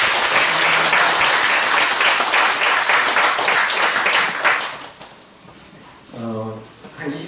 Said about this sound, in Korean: 우리 환영하는 마음을 담아 큰 박수로 환영하겠습니다.